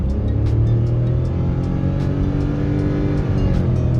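A Nissan Magnite engine with a CVT gearbox drones at a steady, unchanging pitch while the car accelerates, a smooth continuous hum without gear shifts, close and loud.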